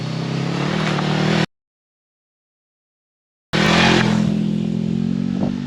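Engine of a 2021 VOGE 500DS motorcycle while riding at road speed. It makes a steady, buzzy drone mixed with wind rush, cut by a couple of seconds of total silence midway, then resumes just as strong.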